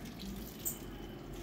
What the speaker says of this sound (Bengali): আমি জলটা একটু নিকড়ে নিচ্ছি